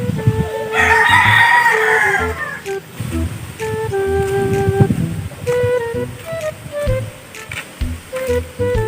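A rooster crows loudly nearby with a long drawn-out call, followed by clucks and short calls, while people talk intermittently in the background.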